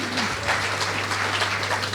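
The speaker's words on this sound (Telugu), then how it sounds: "ఒకసారి శ్రీకాంత్ గారికి ఇంకా గట్టిగా క్లాప్స్ కొట్టండి" Crowd applause from a symposium audience at a university tech event, steady dense clapping filling the whole stretch at moderate loudness, with a low steady hum beneath and no speech on top.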